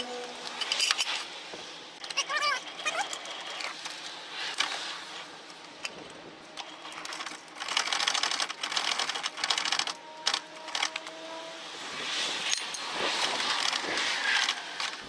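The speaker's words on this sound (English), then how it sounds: "Now I'm going to jack this up real high, kinda." A trailer jack being cranked up high, giving bursts of rhythmic mechanical clicking and grinding that come and go over about fifteen seconds, fairly close with no talk.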